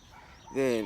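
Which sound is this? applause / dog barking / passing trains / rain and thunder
dog barking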